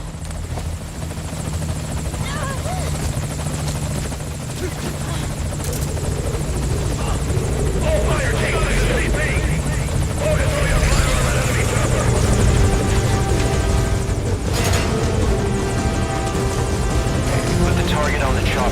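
A helicopter arrives at a landing zone in the Metal Gear video game, its steady rotor thrum and engine whine loud and continuous throughout, with voices talking over it.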